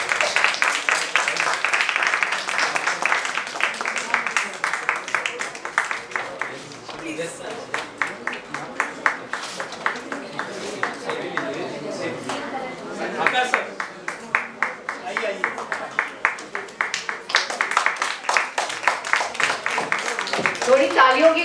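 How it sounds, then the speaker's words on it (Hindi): A book launch audience applauds for an author, with dense, lively clapping lasting throughout. The rhythm comes and goes in waves, some stretches turning into unified beats, and voices are mixed in. "Please give a good round of applause."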